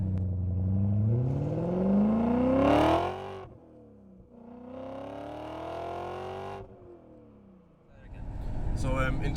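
A roughly 20-year-old BMW E39 M5 V8 pulls hard from inside the car, its engine and exhaust note climbing steeply through the revs, easing off, then rising again in a second strong pull before dropping away.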